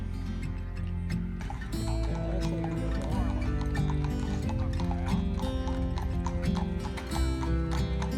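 Horses clip-clop along at an outdoor historic site in Williamsburg, Virginia, their steady hoofbeats mixed into a loud, busy background of music-like tones and ambient sound.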